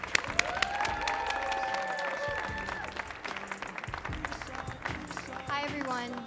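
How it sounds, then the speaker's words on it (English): Audience applause at a live festival stage performance for a youth poet laureate, a sustained dense clapping from a crowd with light cheering, steady throughout under some voices. "Start clapping right now for the 2019 DC Youth Poet Laureate, Gabriella Orozco."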